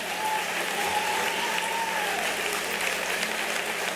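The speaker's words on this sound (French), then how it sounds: "une bonne main d'applaudissements pour notre personnel de l'école" Indoor audience at a school event's opening ceremony applauding steadily, a dense continuous wash of clapping from a large crowd that fills the whole stretch with no break.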